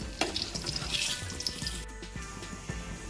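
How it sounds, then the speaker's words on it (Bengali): Oil sizzling steadily as ridge gourd fries in a pan, with a few clinks and scrapes of stirring over the constant crackle. "তার জন্য আমি ঝিঙেগুলোকে ওই তেলেতেই একটু ভেজে নেব"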